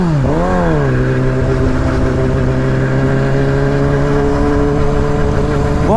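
Yamaha R6 sport bike engine, a quick throttle blip that dips and climbs, then a loud steady high-revving drone held close by for several seconds.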